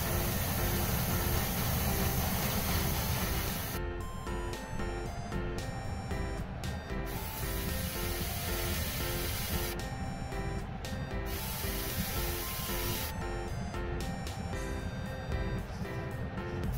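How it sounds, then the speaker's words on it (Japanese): Airbrush spraying clear orange paint onto an Aoshima DeLorean time machine model kit, a steady hissing spray in three bursts with near-constant compressor noise underneath and short pauses between passes. "赤い部分をマスキングしてクリアオレンジを拭きます。"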